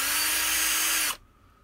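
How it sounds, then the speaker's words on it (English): A power drill whines loudly and steadily for about a second while drilling holes in a tight space inside a Mercedes Sprinter camper van, then cuts off abruptly, leaving near silence. "I've got to drill some holes in this tight space here"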